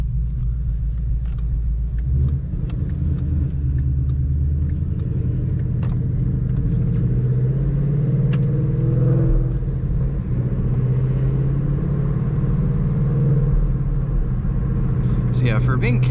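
A 2016 Ford Mustang GT V8 running catless with an aftermarket catback exhaust, driving: a steady, deep engine and exhaust rumble fills the cabin throughout, with a faint voice now and then.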